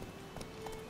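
Roach, a horse in The Witcher 3: Wild Hunt, runs with a quick clip-clop of hooves, a few soft hoof beats over steady game ambience.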